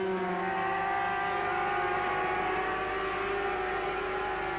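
A 125cc racing motorcycle at Silverstone during the 1986 British Grand Prix holds a loud, sustained two-stroke engine whine, its pitch sliding slightly as it passes, steady and continuous throughout.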